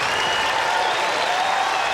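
Dense, steady applause from a packed tennis stadium crowd at Louis Armstrong Stadium, a continuous roar of clapping at match point of a long first-round US Open women's match, with no pauses.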